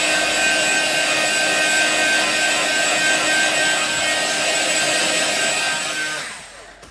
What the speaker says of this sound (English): A really, really quick blast with my heat gun